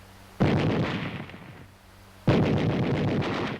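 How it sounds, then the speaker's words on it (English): A World War II–era machine gun firing in two loud, close bursts of rapid rattling shots, the second starting about two seconds after the first fades, with a booming low rumble. "A machine gun."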